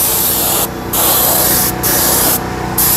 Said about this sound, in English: what I'm using here is aqua gloss straight out of my detail gun, and I'm literally just spraying it onto the plastic